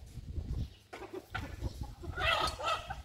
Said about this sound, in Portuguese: As galinhas estão aqui